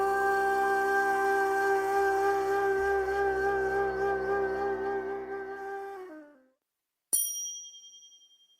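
Turkish ney reed flute holding long, breathy sustained tones for about six seconds before fading, followed by a single bright chime-like strike that rings out alone.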